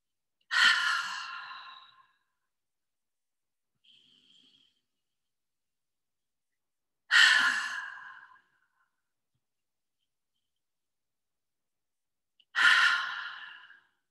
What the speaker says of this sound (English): Today, I chose breathing out the mouth more in line with the lion's breath